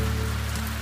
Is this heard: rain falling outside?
yes